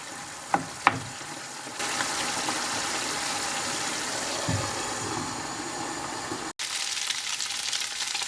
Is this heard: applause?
no